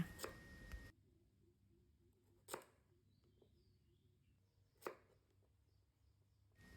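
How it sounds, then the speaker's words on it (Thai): Japanese pumpkin being cut into bite-size pieces with a knife, the skin left on, giving a few sharp, separate chopping knocks spaced about two seconds apart, close and fairly quiet with stillness in between. "หั่นเป็นชิ้นพอดีคำค่ะ"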